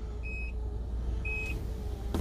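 Two short electronic beeps about a second apart from a 2019 Infiniti QX80 tailgate, followed by a soft mechanical thud as it shuts, over a low steady hum.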